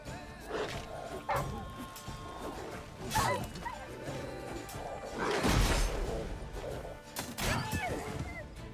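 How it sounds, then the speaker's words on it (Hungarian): A dog barks a few times in The Witcher 3: Wild Hunt, set in Toussaint, amid game sounds with loud crashing hits and clatter around it. "Kutya."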